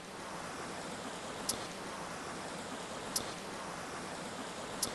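Water flowing steadily through a stretch of woodland near a cottage, a continuous broadband rush with no pauses, joined by three faint, brief high clicks spaced evenly apart.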